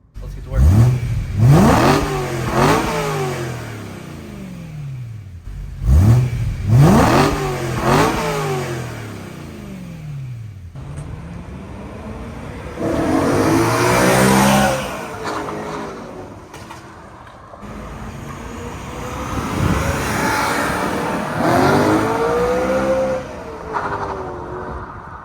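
A BMW E92 M3 with its stock exhaust revs hard up close, two sharp throttle blips that rise and fall, followed by longer, wavering revs of the engine.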